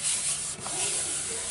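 Rough edges of a hammer-marked metal part from a 1962 Ford Falcon engine are smoothed by hand, producing a close, continuous scraping rub with a brief dip midway.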